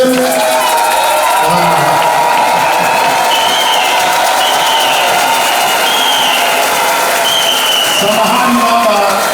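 A large crowd ululates and cheers loudly to welcome a guest at an Easter celebration in Goma, DRC, with high trilling calls over dense, continuous roaring and shouting voices.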